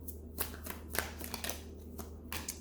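Tarot cards drawn one after another from a deck, a few soft papery slides and flicks spaced across the moment, close and quiet with no talking.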